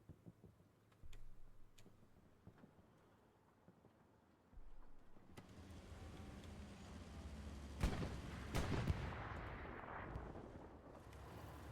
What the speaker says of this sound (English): Looks like the American tank just got hit.